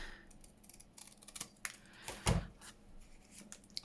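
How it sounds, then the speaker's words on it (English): Scissors cutting paper for a folder journal craft project, a series of close, crisp snipping strokes with quiet handling sounds between and one louder cut near the middle. "So let's try and cut it straight."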